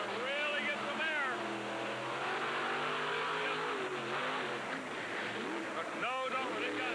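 The Hercules monster truck's engine throttles up at the 1990 General Tire 4 Wheel Jamboree in Indianapolis, rising and falling in pitch as it revs under a commentator's continuous voice.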